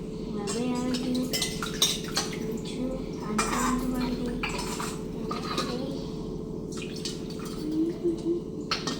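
A silver picture frame is washed with water during temple cleaning: metal clinks and clatter with dripping and splashing water, close and steady, under an ongoing low hum and occasional talk.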